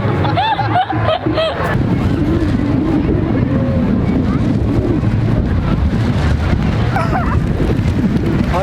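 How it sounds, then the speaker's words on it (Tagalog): Strong wind at a beach kite festival in Bondi, Sydney, buffets the microphone in a steady, rumbling roar, with faint voices and brief laughter early on. "Malakas hangin."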